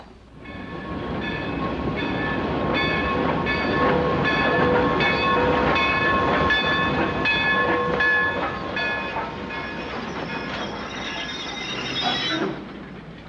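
A train rumbles steadily past with a sustained horn-like tone over clattering wheels, loud and continuous before fading at the end.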